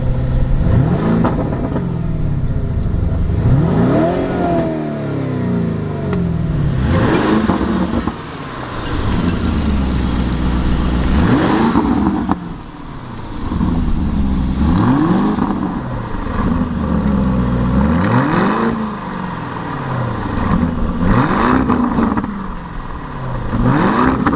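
A Lamborghini Urus engine in Corsa mode revs repeatedly, each throttle blip rising to a loud snarl and falling back, with pops and crackles between revs, close and aggressive.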